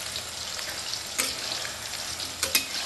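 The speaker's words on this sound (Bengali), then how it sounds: "পকোড়া করে ভাজতে থাকবো।" Chicken pakoras for Bengali-style chilli chicken frying in hot oil, a steady close broadband sizzle with a few sharper crackles and spatters.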